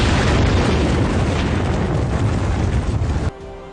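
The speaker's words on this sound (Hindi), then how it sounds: "परमाणु युद्ध हुआ तो क्या होगा? इसे जानने से पहले यह जानना जरूरी है कि परमाणु बम कितना विनाशकारी है।" A nuclear bomb explosion sound effect: a massive, deep roaring blast rumbling loudly and continuously before cutting off abruptly into a faint lingering tone.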